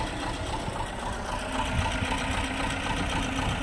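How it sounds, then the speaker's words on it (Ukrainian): An old T-25 tractor engine straining in winter, a steady rough mechanical chugging with uneven knocking pulses, close and continuous throughout. "Ну, Тракторець так чути, що тяжковато працює якось."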